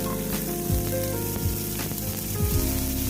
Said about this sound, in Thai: เราผัดกระเทียมให้หอมนะครับ พอกระเทียมเริ่มหอมแล้วนะครับ เราใส่หอยลายลงไปเลยนะครับ